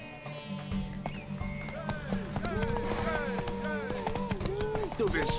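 A horse gallops with rapid rhythmic clip-clop hoofbeats in The Witcher 3, while someone speaks over the game sounds.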